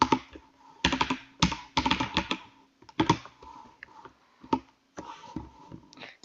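Fingers typing on a computer keyboard nearby, with clusters of quick key clicks and short pauses between bursts, with no voices.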